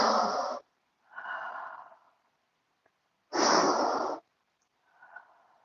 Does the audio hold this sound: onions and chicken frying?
no